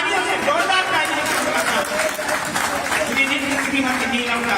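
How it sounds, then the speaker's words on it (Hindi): A crowd at a BJP political rally in Ramgarh Shekhawati applauds loudly for a ward candidate, dense continuous clapping mixed with crowd chatter and a voice talking over it. "तालियों से जोरदार तालियों"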